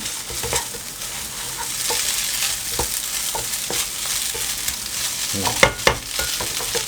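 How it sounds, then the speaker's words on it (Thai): Egg stir-frying in a hot pan for spicy glass noodles with shrimp: a steady close sizzle broken by scraping stir strokes and a few sharper clacks, with no talking. "ตรงนี้เราจะผัดจนกว่า ไข่จะสุกเต็มตัวนะครับ"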